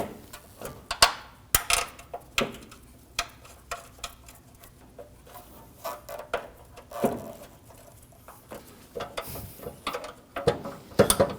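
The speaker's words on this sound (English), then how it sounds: "Now we can go ahead and install our 12mm bolts" Bolts threaded and tightened into a 2013-2015 Subaru XV Crosstrek front bumper, with irregular close metallic clicks, ratchet-like ticks and sharp taps spread unevenly through the stretch, no talking.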